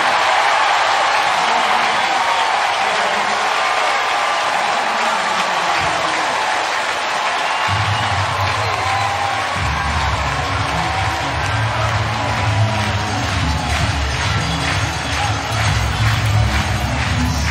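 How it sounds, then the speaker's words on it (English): A baseball stadium crowd at the 2019 NCAA Tournament game between Mississippi State and Miami roars after a 4-6-3 double play, a loud, sustained wash of cheering and applause that keeps building. "Listen to this crowd."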